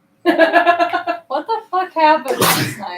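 A sneeze bursts out loudly near the end, just after a person's spoken question, with a sharp noisy blast following the voice.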